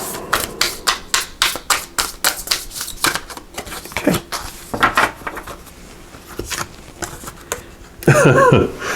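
A run of quick, crisp card riffles and flicks in close succession, followed by softer rustling and a final louder shuffle burst near the end.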